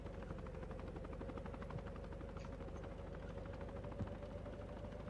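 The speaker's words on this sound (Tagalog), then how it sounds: "Helicopter, oh." A helicopter flies in Call of Duty Mobile, a steady, fast rotor thrum with a constant engine drone. It stays at an even, moderate level throughout, with no voices over it.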